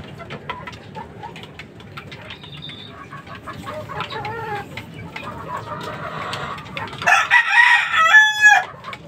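Chickens and gamecock roosters at a small poultry farm, with scattered clucks and distant crowing building to one loud, close rooster crow near the end.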